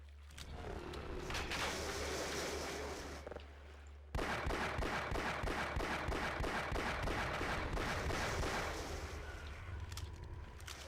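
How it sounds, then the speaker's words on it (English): Shotgun blasts from the Half-Life video game on PS2, loud and repeated as a dense string of booming reports over a steady low rumble, with a short lull near the middle. "Maybe I shouldn't even be using the shotgun for this."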